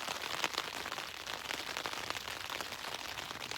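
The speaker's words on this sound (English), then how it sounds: "What is it about that sound with the rain on the tent?" Rain falling on a tent during a misty wild camp at Bamford Edge, a close, steady patter of drops with scattered sharper taps, with no talk over it.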